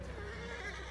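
A horse neighs in a video game, one short whinny over a low background rumble, close and fairly loud.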